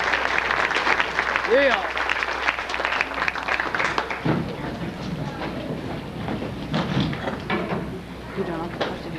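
Audience applause after a poem at a millennium poetry show, a burst of clapping from a hall crowd mixed with voices and a brief cheer, tapering as people start talking.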